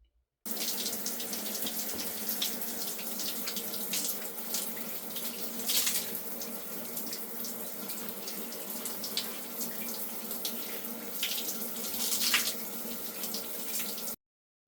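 Shower water runs steadily, a constant close hiss and splash that starts abruptly, holds for over ten seconds and then cuts off.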